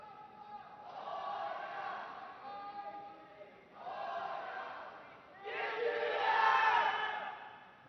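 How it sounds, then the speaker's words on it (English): Team members at a 2022 Robocon robot competition cheer loudly in three swelling bursts, with the last outburst the biggest and longest. "Powerful cheering by the team members."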